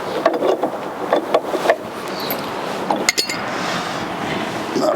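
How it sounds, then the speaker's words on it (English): A pipe wrench works a large nut on a weight distribution hitch with sway cam locks, giving scattered metallic clinks, scrapes and knocks, close and fairly loud, with no talking. "I'm resorting to a pipe wrench"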